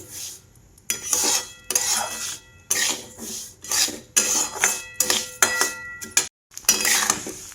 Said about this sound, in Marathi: आता तेल हे बघा एवढ्या कमी तेलातच आता मोहरी भाजली जाते